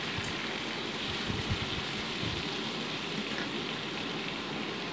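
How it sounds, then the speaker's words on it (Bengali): Onion frying lightly with potatoes in a pan, a steady close sizzling hiss with a few soft crackles, continuous throughout, with no voices. "তো পেঁয়াজটাকেও মোটামুটি আলুর সাথে একটু হালকা ভেজে নিচ্ছি আমি।"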